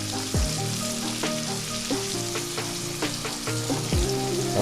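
Onions and bell pepper sizzle and crackle steadily in a hot pan, with occasional scraping and clinking of a utensil stirring them.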